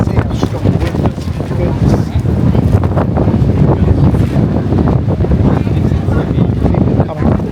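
Strong gusting wind during a sandstorm on a beach in Gran Canaria, a loud constant roar and buffeting against the microphone that fills the whole stretch with no letup.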